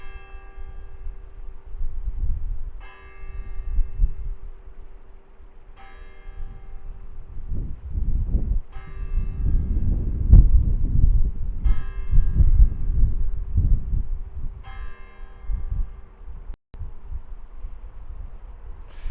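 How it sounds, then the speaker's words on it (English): Church clock bell at St John the Baptist, Old Dalby, Leicestershire, striking nine o'clock: slow, evenly spaced ringing strokes about every three seconds, clear and resonant over wind and outdoor rumble. "the clock began to chime 9, so I thought, well, let's hear the bell"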